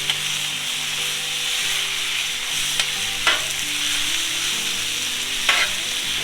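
Philly cheesesteak meat sizzling loudly and steadily on an oiled Blackstone griddle, a dense continuous fry with a few scraping stirs of a spatula, close up and without talk.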